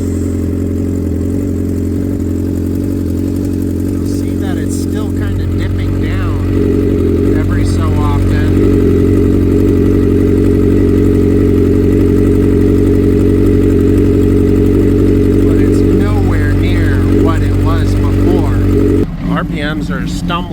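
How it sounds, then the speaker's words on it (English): Honda CBR600RR motorcycle engine idling roughly with stumbling revs, a steady close rumble that wavers unevenly, while a person talks over it. "RPMs are stumbling like crazy at idle, but it's nowhere near what it was before."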